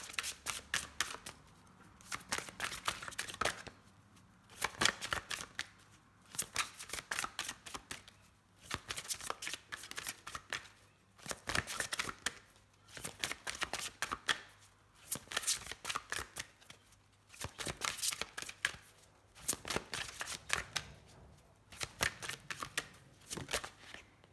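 Tarot cards are shuffled over and over, each riffle a rapid flurry of crisp flicks followed by a brief pause, close and clear with no talking.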